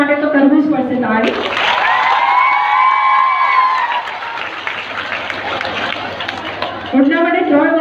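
An audience at a school garba and prize distribution applauds and cheers for the old and new principals, a sustained crowd roar with a voice rising above it, and a speaker talks before and after.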